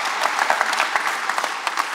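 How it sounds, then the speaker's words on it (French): Sustained audience applause at an aircraft museum inauguration, a dense crowd of hands clapping steadily and fairly close, with no voices over it. "Donc je vous demande de l'applaudir également."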